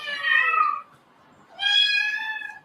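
Kittens of various ages at a cat sanctuary meow twice, each cry drawn out and fairly close, with a short quiet gap between them.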